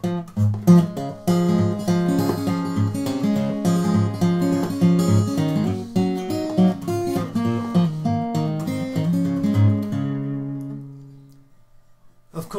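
Ragtime-style fingerpicking on an acoustic guitar, with bass notes under a busy melody, heard alone and close; the notes ring together steadily, then the playing stops and the final chord fades to silence.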